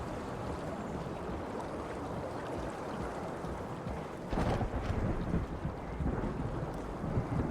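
Low thunder rumbles underwater in SOMA, a dull, muffled roll over a steady wash of noise that swells louder midway and again near the end, with no voices.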